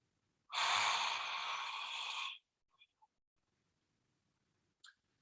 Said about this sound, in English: Breathing out with another ha.